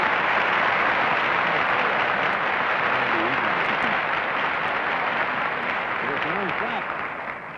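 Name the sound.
studio audience applause on a TV game show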